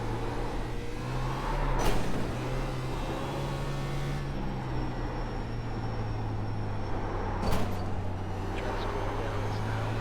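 A race car engine holds steady in third gear on the bumpy Nashville Fairgrounds oval in iRacing, a continuous loud drone with a constant low hum and a few brief sharp bumps or jolts cutting through.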